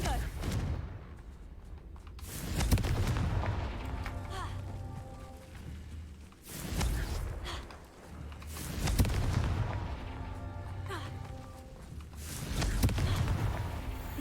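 Confringo fire spell explosions in Hogwarts Legacy, several heavy booming blasts with fiery rumbling tails repeating every few seconds, loud and close.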